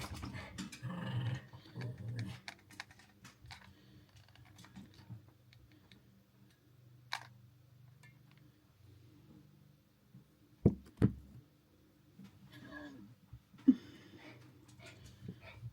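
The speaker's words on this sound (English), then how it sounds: "My dogs are playing." Dogs play indoors at home, with faint scattered growls, scuffles and nail clicks and a few sharper bumps near the end, all fairly quiet and without talk.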